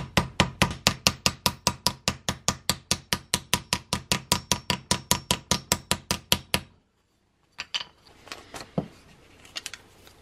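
A hammer taps rapidly and evenly into the top of a wooden shield to give it a hammered-metal look, in about thirty sharp close strikes, then stops for a moment before a few scattered knocks and handling noises.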